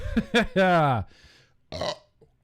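A loud, close, drawn-out burp with a second shorter belch following, voiced and guttural.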